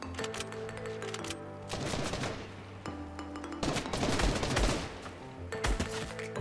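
Sniper rifle gunfire from the Fortnite video game, with several sharp shots and bursts layered over in-game music and effects, fairly quiet and heard without talk.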